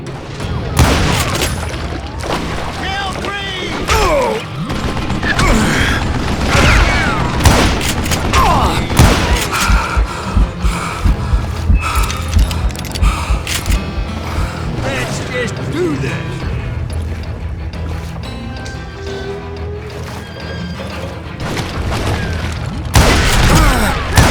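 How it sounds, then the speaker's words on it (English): Heavy gunfire in Call of Juarez Gunslinger, a long fusillade of dense repeated shots, booms and mechanical clatter, loud and continuous, with a voice talking over parts of it. "a fusillade of bullets come raining down from on high"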